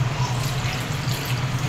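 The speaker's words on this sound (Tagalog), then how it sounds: "Konti lang yung tubig ilagay natin para steam lang naman ito eh." A small amount of water is poured into a pot to steam crab and shrimp, a steady close splashing trickle over a low hum throughout.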